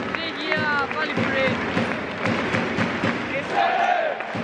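A sell-out football crowd at Valley Parade for Bradford City against Liverpool roars and chants in a dense, loud wash, with someone talking up close over it.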